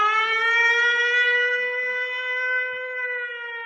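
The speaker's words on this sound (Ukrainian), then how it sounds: "Увага! Повітряна тривога." An air raid siren wails in a long, steady, harmonic-rich tone that slowly sags in pitch, loud and continuous, with faint background sounds beneath.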